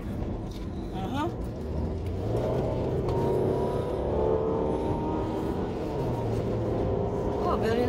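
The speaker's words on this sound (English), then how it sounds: "Is it a truck? Oh, big truck, yeah?" A big truck drives past on the road, heard from inside a moving car as a steady engine rumble and road roar that builds and lingers at moderate loudness, with people chatting over it.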